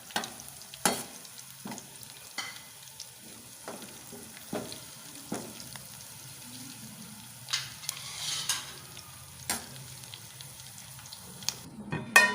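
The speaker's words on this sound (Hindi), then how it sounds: "अब मैं इसमें जीरा डाल रही हूँ।" Cumin seeds crackle and sizzle in hot oil with browned garlic over a low flame, a soft continuous frying hiss broken by sharp spitting pops and a few clinks of a spoon against the pan, no one speaking.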